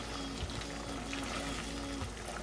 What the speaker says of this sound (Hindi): अब इसमें 1/4 कप पानी हम ऐड कर देंगे।